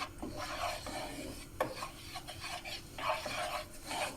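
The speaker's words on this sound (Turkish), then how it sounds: "tavaya gördüğünüz gibi 2 yemek kaşığı sıvı yağ, 1 yemek kaşığı unu ekleyip kokusu çıkana kadar kavuruyoruz." A utensil scraping and stirring two tablespoons of flour roasting in oil in a pan, a soft continuous rasping with rhythmic strokes and a faint sizzle, quiet and close with no talking.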